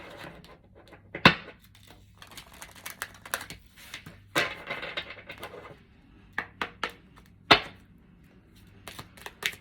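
An angel oracle card deck being shuffled in a tarot-style reading, giving scattered sharp riffle and tap bursts with quiet gaps between them, close to the microphone, with no talking.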